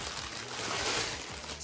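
Plastic packaging around artificial peony flowers crinkles and crackles continuously and close up, a dense rustling texture with no talk.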